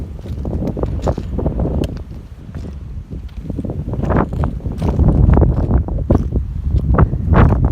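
Gusty wind sweeps across a rocky hiking trail on Hawaii's Big Island near Halape, buffeting the microphone in rumbling surges that swell louder toward the end, with no voices.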